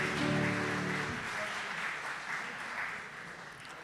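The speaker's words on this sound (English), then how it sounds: "Big applause to Networking Premium and team." An audience at a startup pitching competition gives a round of applause, a wash of clapping that rises at the start and then continues at a steady, moderately distant level, with a voice briefly heard at the start.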